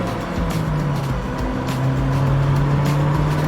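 A car driving aggressively through curves, engine droning steadily up close with a rising tonal hum and road noise throughout.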